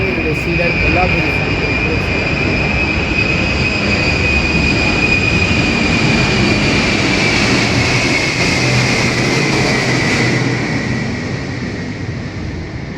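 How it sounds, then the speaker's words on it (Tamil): A loud, steady roar of aircraft near Guindy airport in Chennai fills the whole stretch, a broad rushing drone with a high whine above it that eases slightly at the end. "விமான நிலைய பக்கத்தில் இருக்கிறனால இந்த சத்தம்"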